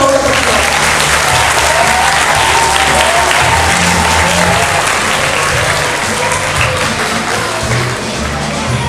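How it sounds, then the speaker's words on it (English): Loud, sustained applause from a school audience at a patriotic singing competition prize ceremony as students come up for their certificates, steady dense clapping with crowd noise throughout, thinning slightly near the end. "Come on students, they deserve a loud round of applause"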